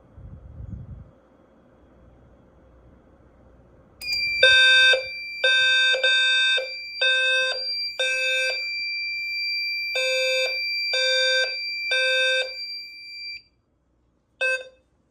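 A Notifier SFP-10UD fire alarm demo system goes off after a low rumbling lead-in, a loud pulsing horn in rhythmic bursts with a steady high electronic tone underneath, then cutting off and giving one last brief pulse.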